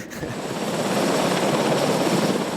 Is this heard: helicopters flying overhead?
yes